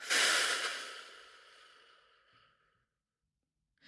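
A long, breathy exhale during a breathing exercise, loud and close at first, then slowly fading over about two and a half seconds into silence.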